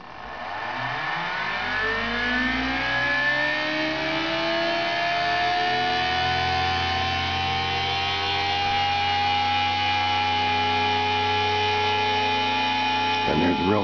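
An experimental electric motor, the Zero Force Motor, runs under load with a loud, steady whine whose harmonic pitch climbs as it spins up and then holds, close and continuous for the whole stretch.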